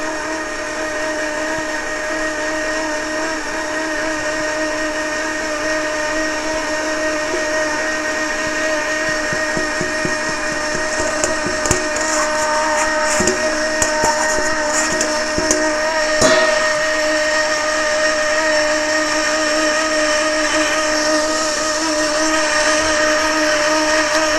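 An electric mixer works Christmas cookie dough in a steady, loud, droning motor whir that runs throughout, with faint knocking and clatter from the dough and bowl in the middle stretch and no voices.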